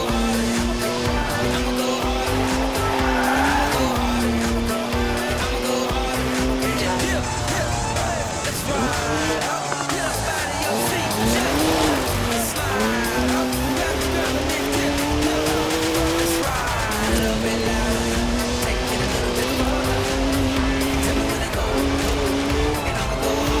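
A BMW racing in Forza Horizon 4 roars loudly and steadily throughout, its engine pitch climbing and falling through gear changes, with tire squeal mixed in and no talking.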